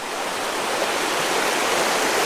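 Welch Spring, a large spring in Shannon County, Missouri, pours out as a steady, broadband rush of flowing water, continuous and fairly close for the whole stretch, with no voices over it.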